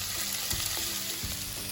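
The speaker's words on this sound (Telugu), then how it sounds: "ఆనియన్, పచ్చిమిరపకాయలు ఈ రెండు కూడా దీనిలో వేసి గోల్డెన్ బ్రౌన్ వచ్చే వరకు" Sliced onions and green chillies fry in hot oil with a dense, close, continuous sizzle and a few soft stirring scrapes.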